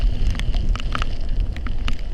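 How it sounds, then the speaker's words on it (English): A wind gust from Hurricane Irma blows past a house, a loud, steady rush of buffeting noise crackling across the microphone for a couple of seconds. "A little bit of a gust there,"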